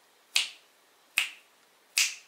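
Three crisp finger snaps ring out alone at an even, unhurried pace close by, next to a plasma disc, with near silence between them.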